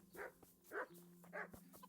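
A dog in the video game Kingdom Come: Deliverance barks three times at a steady pace, close and fairly faint, over a low humming in-game background.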